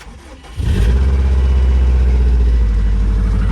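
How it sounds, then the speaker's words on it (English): A 2005 Subaru Impreza WRX STI engine cranks and catches after an oil change, then settles into a loud, steady idle that continues without a break. "Now it's time to start the car."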